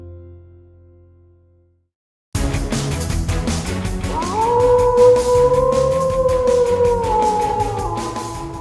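A wolf howl sound effect played as a sports-show stinger: after about two seconds of silence, a loud, sustained rising and wavering howl rings out over a busy musical backing, swelling and then slowly fading.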